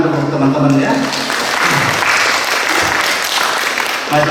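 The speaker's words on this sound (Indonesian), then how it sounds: "Oleh karena itu kita beri tepuk tangan untuk teman-teman ya" Classroom audience clapping for fellow students' presentation, a steady wash of applause with voices and chatter mixed in throughout.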